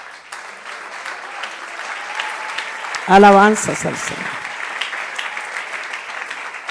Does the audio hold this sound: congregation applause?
yes